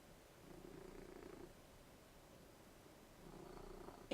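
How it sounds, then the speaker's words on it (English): A white cat resting on a desk purrs softly in slow, rumbling waves, two long breaths of purr separated by a quiet pause, faint and close, ending with a small sharp click. "If you can hear purring, I've got a certain white cat on my desk."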